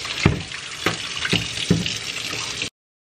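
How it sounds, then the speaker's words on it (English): Tap water pours steadily into a sink while beans are rinsed, a continuous hiss broken by a few soft splashing bursts as the beans are stirred, then cutting off abruptly. "Okay, so now we're going to rinse our beans."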